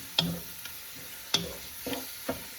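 Mirepoix vegetables sautéing in a pot for homemade chicken soup, a quiet, soft sizzle broken by a few sharp scraping stirs of a spoon spaced about a second apart.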